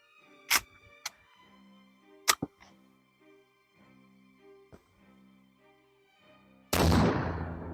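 Mosin Nagant rifle fired outdoors: a few sharp, widely spaced cracks stand out against a quiet background, followed by a sustained burst of broadband noise near the end.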